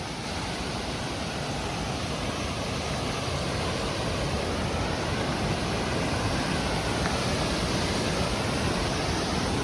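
Roar of Jack's River Falls at the Lower Falls area in the Cohutta Wilderness, a dense, steady rush of falling water, loud and close, unbroken for the whole stretch with no voices.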